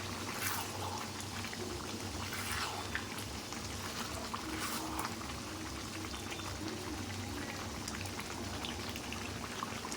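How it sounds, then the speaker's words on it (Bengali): Mutton curry boils in a covered pot with a continuous dense bubbling and crackling. It holds steady at moderate level, and a low hum sits underneath. "এটাকে ঢেকে ঢেকে সেদ্ধ করে নেব।"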